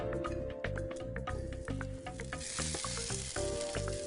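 Pearl onions sizzling loudly in hot olive oil in a Dutch oven, a dense crackle with intermittent clunks and scrapes as they are moved around, close up with no talking.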